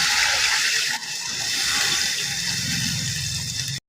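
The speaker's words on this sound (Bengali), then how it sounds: "এবার আমি জল দিয়ে নিচ্ছি।" Water gushes steadily into a pan of fried fish curry masala for a desi rui fish curry, a continuous loud pouring splash that cuts off abruptly at the end.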